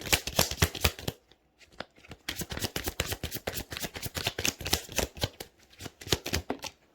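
A tarot card deck is shuffled close up, giving rapid riffling bursts of card flutter with a brief pause before the shuffling resumes.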